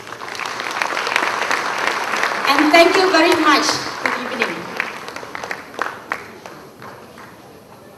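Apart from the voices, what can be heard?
audience applause at awards ceremony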